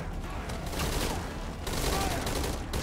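Scattered enemy gunfire in the stealth video game Metal Gear Solid V: Ground Zeroes, a busy crackle of shots over rumbling ambience, steady and moderately loud throughout with a sharp burst at the end.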